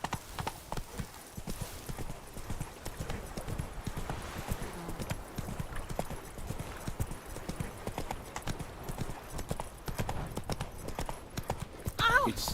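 Roach the horse trots in The Witcher 3, with steady rhythmic hoofbeats clip-clopping throughout, close and fairly quiet, under a low game ambience with occasional voices.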